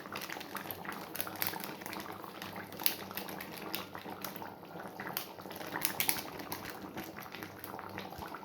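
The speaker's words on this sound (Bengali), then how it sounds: "ঢাকা দিয়ে ফুটিয়ে নামিয়ে নেব" A pot of meat curry bubbles steadily under its lid, a soft continuous boil with faint liquid crackle, close and quiet, no voices over it.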